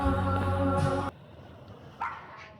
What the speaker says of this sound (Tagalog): Tahol ng tahol kung may aso.